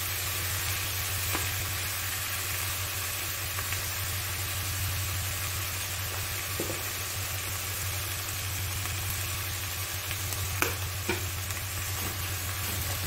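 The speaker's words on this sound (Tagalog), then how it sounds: "I-saute lang natin ang sibuyas hanggang sa maging brown. Ilagay ko na ang aking breast chicken." Onion and chicken breast sauté in a pan, a steady close hiss of frying with a low hum beneath and occasional faint clicks from stirring, no voices.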